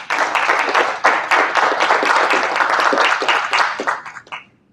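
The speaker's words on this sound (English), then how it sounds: "So please give her a round of applause" A room of attendees at a company month-end training session bursts into dense, steady applause that holds strongly for about four seconds before tapering off and fading out.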